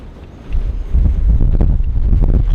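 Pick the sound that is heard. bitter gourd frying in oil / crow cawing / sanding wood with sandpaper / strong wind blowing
strong wind blowing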